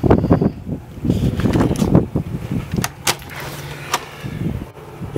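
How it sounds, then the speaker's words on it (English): Wind buffeting a microphone outdoors on a breezy spring day beside a stone wall and patio, loud irregular low gusts and rumbles with a few sharp crackles, easing toward the end. "Sorry if this is noisy. It's a little breezy up here."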